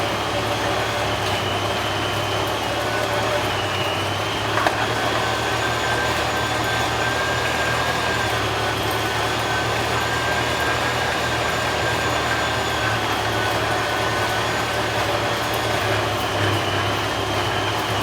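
An electric juicer runs continuously as it cuts apples and kale, a loud, steady mechanical hum and rumble with no talking.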